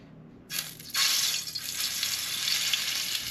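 Meat hitting a very hot, smoking pan on a stove bursts into a loud, close sizzle that swells after a second and holds steady as the searing continues.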